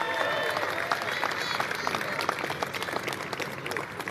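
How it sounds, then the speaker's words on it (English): An audience claps steadily in a round of applause at a civic ceremony honoring baseball players, dense and sustained throughout with crowd noise and scattered voices mixed in. "Jesse Orosco, again, give him a round of applause."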